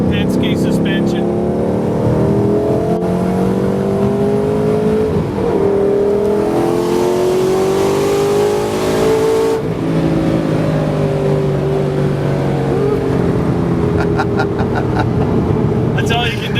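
A race car fitted with Penske suspension accelerates, its engine rising in pitch and dropping with each gear change, loud and close from inside the cabin.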